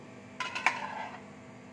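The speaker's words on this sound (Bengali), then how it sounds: "এবার আমি একটা বড় পাত্রে এগুলো সব একসাথে মেখে নেব" Paneer cutlet ingredients being mixed together in a large bowl, with two brief clinks of a utensil against the bowl followed by a soft, faint scraping tail.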